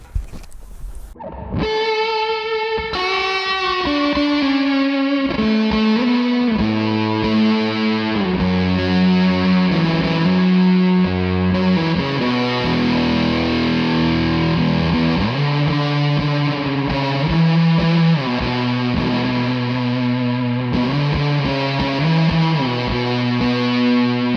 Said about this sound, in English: I'm going to turn up the reverb in the amp and get some more ambient tones with this